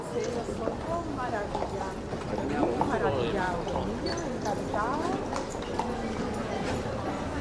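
Horse-drawn carriage hooves clip-clop along a street in Palma de Mallorca, a steady rhythmic trot heard nearby beneath murmuring voices and street ambience.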